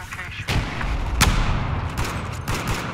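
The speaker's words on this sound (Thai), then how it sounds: "อุ้ยลืมไปนึกว่าปืนพกรัว" Rapid gunfire bursts from Battlefield 4 gameplay, with several sharp reports cracking over a dense, rumbling battle din and one especially loud shot standing out amid the continuous noise.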